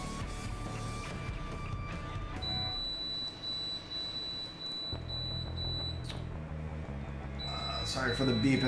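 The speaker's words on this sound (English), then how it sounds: "Sorry for the beep in there" An electronic beep sounds as a steady, sustained tone through the middle of the clip, over a low hum from a nearby air conditioner and under ongoing talk.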